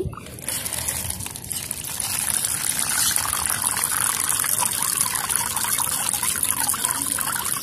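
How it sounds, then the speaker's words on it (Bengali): Water is poured steadily for cats on a rooftop garden, a continuous splashing trickle that holds fairly loud and even from start to finish, with no talking. "আর সেই সাথে ওদেরকে দিয়ে দিচ্ছি পানি"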